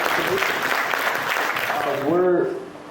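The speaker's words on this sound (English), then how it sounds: "Can we get a round of applause for that?" An audience applauds at a tabla performance event, a steady wash of clapping that swells near the end, with voices and cheering mixed in.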